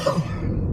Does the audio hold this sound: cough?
yes